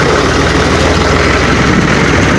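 A tractor engine idles steadily and loudly close by, a dense low rumble with constant vibration and no pauses.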